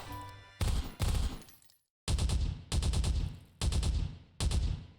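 Half-Life weapons firing in a Garry's Mod-style Roblox game: several loud, separate bursts of rapid automatic shots with short gaps between them, each bright and sharp with a brief decaying tail.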